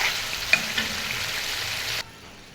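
Beef stir-fried in hot oil for a curry gives off a steady, close sizzle with a couple of sharp spatters, then cuts off abruptly.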